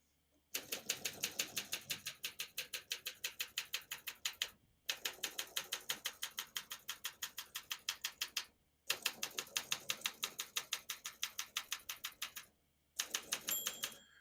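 Rapid mechanical keystrokes clack from a 1958 Olympia SM3 portable typewriter in steady bursts, pausing briefly between lines, close and crisp, with a small bell-like ding near the end.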